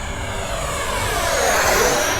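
Freewing Banshee 64 or Vulcan 70 RC jet on a 4S setup makes a fast, low pass right at the ground, its loud steady whine swelling and brightening as it nears, with no talk.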